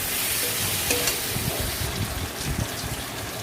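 Spices for a Bengali eggplant curry sizzle and fry in oil in a pan while being stirred, with a steady close hiss and soft scraping strokes and no voices.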